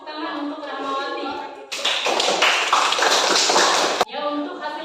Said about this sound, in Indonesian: Tepuk tangan untuk Rahmawati